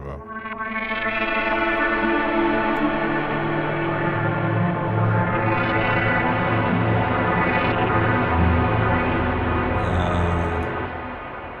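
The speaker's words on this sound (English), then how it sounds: "Almost sound like a shimmer." An audio plugin preset produces a shimmering, distorted and chorused wash of sustained tones with echoing, reverberant layers, continuous and fairly loud for the whole stretch without speech.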